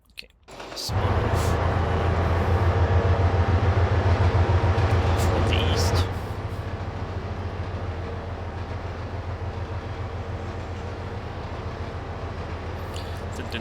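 Trains rumble steadily past in the Trainz railfanning simulation, a loud continuous roll with rhythmic clickety-clack that drops to a lower sustained level partway through, under a brief spoken remark.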